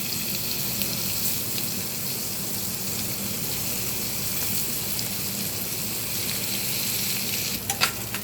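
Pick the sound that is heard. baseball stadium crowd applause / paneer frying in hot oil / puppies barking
paneer frying in hot oil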